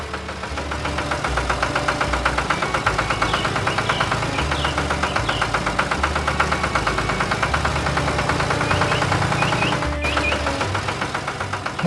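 A farm tractor's engine runs steadily near the microphone, a loud, rhythmic knocking chug with constant low vibration and no voices, holding an even level throughout.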